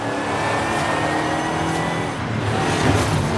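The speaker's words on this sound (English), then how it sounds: "Get that nice engine noise." Engine of a car in the Forza racing video game at night, a steady droning roar with a slight swell near the end, heard alone.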